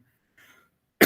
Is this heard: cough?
yes